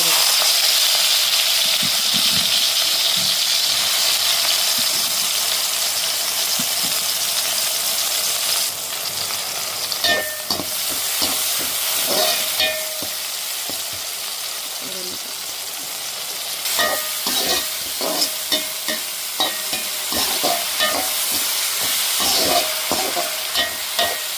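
Mixed batter dropped into boiling oil sizzles loudly and steadily, with a dense broadband hiss throughout and brief crackles and spoon clinks midway as more batter goes in.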